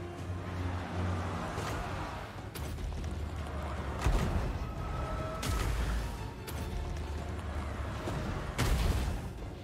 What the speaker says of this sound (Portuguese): Esses caras de canhão de mão aqui estão arrebentando a Ariel